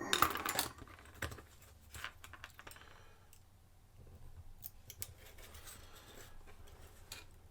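A piece is cut to length with scissors, a few crisp close snips at first, followed by faint clicking and light handling noises in a quiet room.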